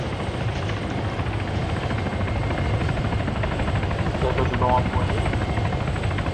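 A Hellcat helicopter arrives in the military video game Arma 3, its rotors producing a steady, fairly close droning thrum that holds evenly throughout.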